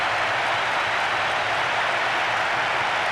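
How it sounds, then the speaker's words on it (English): A capacity stadium crowd roars in PES 2012 on PlayStation 2 after a goal, a steady, loud, dense wash of cheering that does not let up. "There is nowhere quite like this for noise. The capacity crowd getting behind their team."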